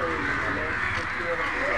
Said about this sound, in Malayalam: കാക്കകൾ പകൽ വന്ന് കൂടും